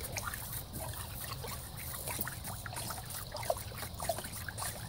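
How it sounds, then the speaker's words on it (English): Water mixed with kelp and a handful of Epsom salts is stirred in a garden container, giving soft, continuous sloshing and trickling with small splashes, fairly quiet and close. "I'm going to give that a good stir."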